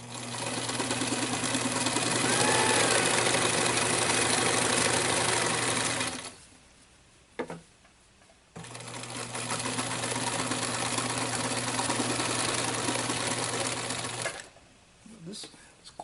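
Sewing machine stitching thick denim for a pouch, two long loud runs of rapid mechanical whirring separated by a pause with a few clicks while the fabric is pivoted on the needle.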